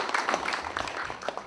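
A university lecture audience at KAIST gives a short burst of applause, a quick scatter of clapping at moderate distance lasting little more than a second.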